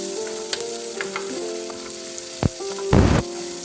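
Mustard flowers fry with a dried chili in a pan, giving a steady sizzle with a few sharper crackles and a brief louder burst of spattering near the end.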